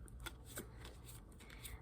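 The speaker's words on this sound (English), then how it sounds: "I'm doing the shuffle test right now." Glossy Art Nouveau tarot cards being shuffled by hand, a steady run of soft slapping riffles and slick card-on-card swishes repeating up close for a couple of seconds.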